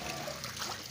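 Water trickles and splatters steadily as ingredients for makhdi halwa are kneaded by hand with water poured over them, a close, continuous wet dribble with no talk.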